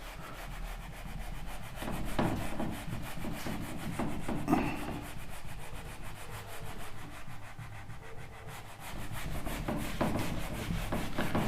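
A drawn figure is rubbed off a classroom board, giving continuous close, scratchy rubbing strokes that fill the whole stretch with no voices.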